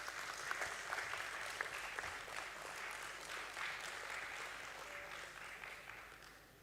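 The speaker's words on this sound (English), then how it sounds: "Let's have a round of applause for the BSE team." Audience applause at a stock exchange listing ceremony for the BSE team, a steady patter of many hands clapping in a room, moderately distant, gradually thinning and fading out by the end.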